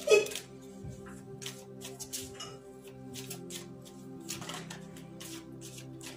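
Tarot cards are shuffled and drawn by hand in a run of soft, quick riffling and flicking sounds, with a faint musical tone in the background.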